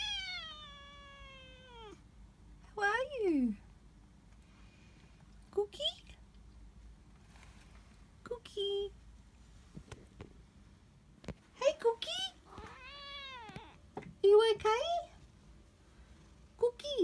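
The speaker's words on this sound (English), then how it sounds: "Is that the best meow you have?" A pet cat meows several times in drawn-out, falling and rising calls spread across the stretch, close and fairly clear, with brief pauses between them and a faint low hum underneath.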